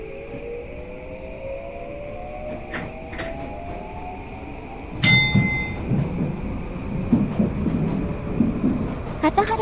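A Tokyu 2020 series electric train in the BVE5 simulator hums with a rising motor whine, then a sharp clank and a chime give way to louder rumbling running noise as it pulls away, with brief bursts of talk over it.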